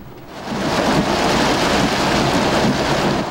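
Heavy rain pours over flooded streets in Quezon City, a loud, dense, unbroken roar that swells in the first half-second and holds steady.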